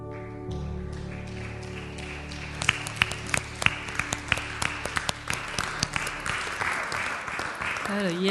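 Audience applause in a church service, scattered claps swelling into a steady round after lingering sustained tones, with a voice speaking over it.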